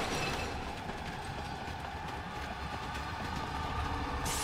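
Minecart clattering steadily along rails in Resident Evil 4 Remake, a continuous loud rolling rumble with metallic clicks and rattle throughout, with no voices heard.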